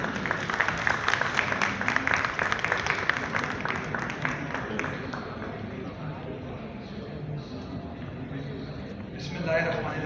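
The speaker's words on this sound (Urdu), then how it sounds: "برائے کرم بھرپور تالیوں کے ساتھ ان کا استقبال کیجیے" Conference audience applauds as the mayor of Karachi, Murtaza Wahab, is welcomed to the stage; dense clapping is strongest early, then thins to a softer, scattered patter with faint voices mixed in.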